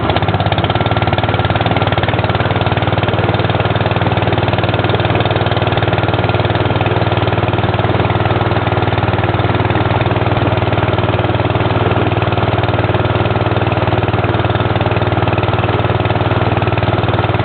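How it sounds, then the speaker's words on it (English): A four-stroke outboard boat motor runs steadily on a lake test, a loud continuous drone with a low throbbing hum, no breaks and no voices over it. "That's a nice running engine."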